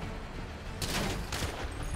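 Gunfire in a GTA roleplay session: two sharp bursts of shots land close together over a rumbling background, loud and near, with no talking.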